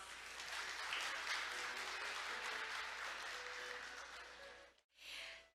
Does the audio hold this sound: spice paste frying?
no